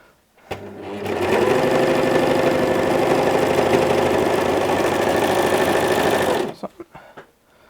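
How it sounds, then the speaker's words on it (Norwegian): Sewing machine running steadily for about six seconds, stitching a sweater shoulder seam with a stabilizing elastic strip sewn in, a continuous loud whirring hum that starts abruptly and stops, followed by a few faint clicks. "jeg nå syr skuldersømmen"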